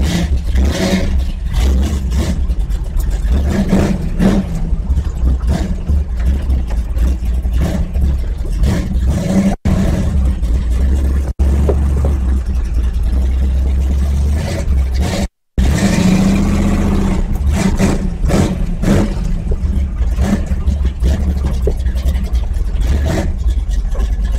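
A car engine revs hard as the vehicle drives off, a loud, close, sustained roar that rises and falls with a couple of brief dropouts midway.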